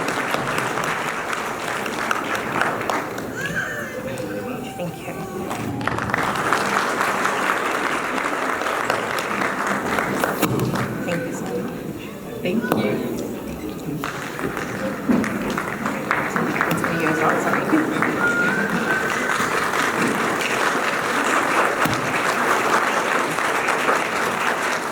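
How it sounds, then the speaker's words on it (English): An audience at an annual Bollywood and Kathak dance production applauds sponsors and supporters, a broad continuous wash of clapping lasting over twenty seconds with brief dips, and voices heard talking through parts of it. "So a big round of applause for all our"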